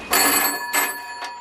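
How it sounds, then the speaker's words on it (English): Old telephone bell ringing inside a Victorian-style phone box, sounding as two or three bright metallic bursts close by with short gaps between them, and no talk over it. "ringing me from another phone box"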